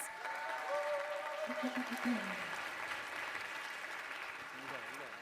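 A conference audience in Rio applauds the event teams at a closing session, a broad, distant wash of clapping in a large hall, with faint voices and tonal sounds underneath.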